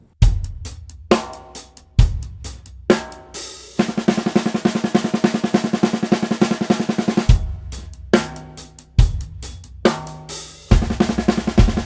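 Drums and cymbals play fast, evenly spaced strokes in tight repeating groups of nine notes per quarter note, with bursts of dense rapid hits between accented crashes, loud and close.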